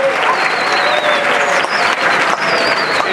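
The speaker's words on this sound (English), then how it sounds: "And the crowd goes wild" Applause and cheering from a crowd at a high school marching band banquet, dense sustained clapping with whoops and whistles rising over it, loud and continuous throughout.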